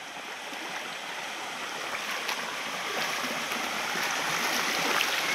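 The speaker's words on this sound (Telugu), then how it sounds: "ఇక్కడైతే వాటర్ ఫాల్స్ లాగా ఉంది." Stream water rushing steadily over a drop like a small waterfall near a village water intake, a continuous broadband roar that grows slightly louder toward the end, with no voices.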